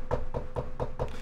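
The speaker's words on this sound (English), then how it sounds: "he was hearing knocks on the door" Knocking on a hotel room door: five evenly spaced, solid knocks about a quarter second apart, close and fairly loud, with no voices.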